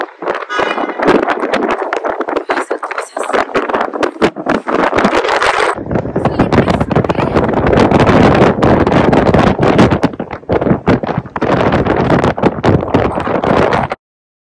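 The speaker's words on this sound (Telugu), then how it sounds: "బయటైతే విండ్ చాలా హెవీగా ఉందండి, యాక్చువల్లీ మనుషుల్ని నెట్టేసే అంత విండ్ ఉంది." Heavy wind buffets the microphone outdoors in freezing downtown Chicago, making a continuous roaring rush with gusty surges and thumping low rumbles that last about fourteen seconds.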